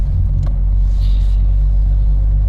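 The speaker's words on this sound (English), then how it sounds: "I'm just staying in first gear in the car park, just making my way through." A car drives slowly in first gear through a car park, its engine giving a steady, loud low rumble from inside the cabin, with a brief soft whine partway through.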